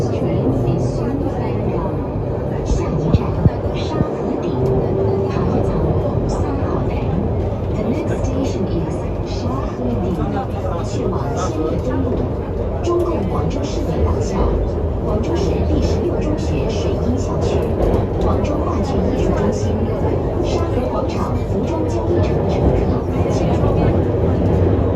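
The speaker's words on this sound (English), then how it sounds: "The train is arriving at Shanghai Station." Guangzhou metro subway train arriving at a station, a steady loud rumble and rail roar filling the car throughout, with chatter and announcements mixed in underneath.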